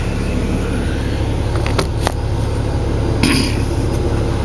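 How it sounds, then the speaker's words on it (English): A truck engine runs at a loud, steady idle with a constant low rumble, broken by a few brief clicks and clanks. "I'm going to go ahead and start the truck real quick, let it idle for a couple of minutes"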